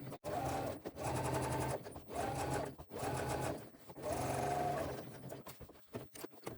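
A sewing machine stitches a straight line down the edge of a crossbody bag, running in several quick bursts of rapid mechanical chatter separated by brief pauses, close and clear with no talking.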